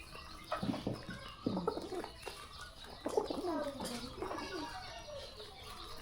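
Pigeons kept at a rural household coo in repeated soft, throaty phrases, fairly close, with a few overlapping calls and light background noise.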